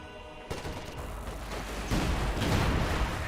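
A dense artillery barrage rumbles in the Company of Heroes 2 strategy game, with continuous overlapping booms and gunfire that start abruptly and swell louder into a sustained roar.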